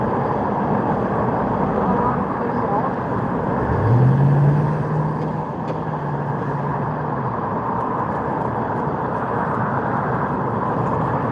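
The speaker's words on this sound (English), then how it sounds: "But you need busy road like this." Cars streaming along a busy road beside a car wash in Seattle, a continuous broadband traffic roar with one vehicle swelling closer and passing midway, no talk.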